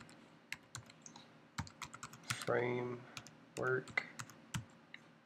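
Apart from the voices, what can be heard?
typing a command on a computer keyboard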